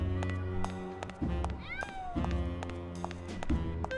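Several cats meow repeatedly at a night-time cat race in the video game Grim Fandango, rising and falling yowls over a pulsing, droning game soundtrack, close and clear.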